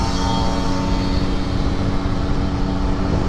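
A Yamaha RX King motorcycle on a standard exhaust, with its worn piston giving a loud continuous mechanical drone as the engine runs steadily close by.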